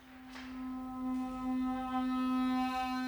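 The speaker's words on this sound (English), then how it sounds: "the aulos is another very cool instrument from ancient Greek times" An aulos, the ancient Greek double pipe, plays a sustained reedy, buzzing tone held nearly steady, rich in bright overtones, swelling slightly in loudness as it goes on, solo with no voices.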